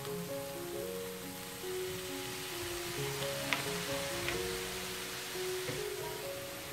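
Soy sauce hits frying rice in a hot pan, giving a steady, close sizzle with a few faint clinks and some background music throughout, no talking.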